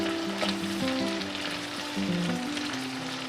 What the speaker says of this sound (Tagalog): iprito natin yan para ma-infuse yung oil natin ng shrimp flavor